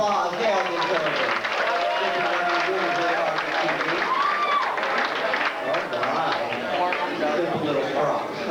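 Applause rises from the audience at a 1993 pageant for a contestant taking the stage, a steady, dense clapping from a crowd that sustains evenly throughout, mixed with crowd chatter.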